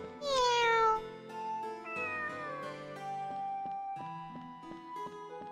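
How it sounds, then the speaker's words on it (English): A cartoonish cat meows in the video game Tales of Rebirth, one bright rising cry followed by a few softer mews over light game music, with no talking. "He's a cat. Meow."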